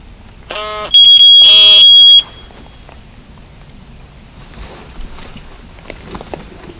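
An alarm clock rings at 4 a.m. during a night of fishing at Zievericher Mühle, giving two loud, short electronic beeping bursts in quick succession. Faint rustling and footsteps follow in the quiet night.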